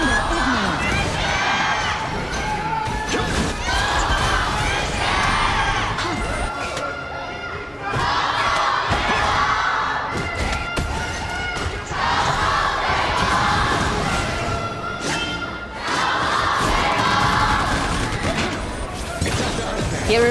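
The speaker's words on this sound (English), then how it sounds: "Hearing from the crowd" A large arena crowd at the Honor of Kings World Cup grand final at the 2026 Esports World Cup roars and cheers in loud, sustained waves, swelling repeatedly, with game sounds and commentary mixed underneath.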